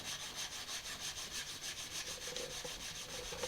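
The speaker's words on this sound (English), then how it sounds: "I'm just going to sand on this piece of sandpaper" A steel crooked knife blade is rubbed back and forth over sandpaper in steady, repeated strokes, a continuous close-up scraping hiss with no voices.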